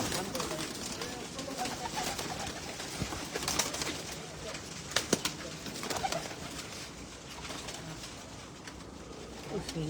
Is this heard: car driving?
no